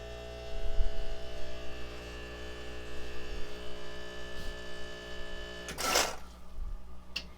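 A Bezzera Magica espresso machine with an E61 group head pulls a shot, giving a steady low mechanical pump hum with a brief hiss of steam or water near the end, close and moderately quiet with no talk.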